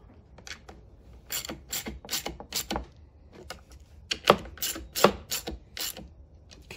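A hand ratchet tightens bolts on a Predator 3500 inverter generator in a string of sharp clicking bursts. The quick pawl ticks come in uneven clusters, close and clear.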